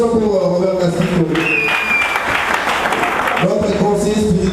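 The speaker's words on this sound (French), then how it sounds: "applaudissons pour Robert Casquito." A crowd breaks into applause at a memorial gathering, a dense burst of clapping rising between stretches of speech from a voice over a loudspeaker.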